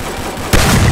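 A sudden loud burst of Free Fire gunfire cuts in halfway through, sharp blasts with a booming low end after a quieter, rumbling stretch.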